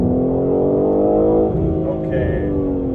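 A BMW G80 M3 xDrive accelerating hard in first gear from a crawl, a loud engine roar with rising harmonics heard from inside the car, easing off partway through.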